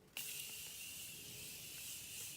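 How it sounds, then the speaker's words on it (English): A continuous, loud hiss of Morphe setting spray starts abruptly and runs steadily for about two seconds, close up with no talking. "So I'm just gonna go with Morphe setting spray."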